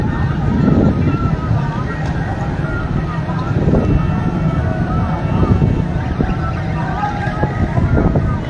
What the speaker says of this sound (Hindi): तेज हवा है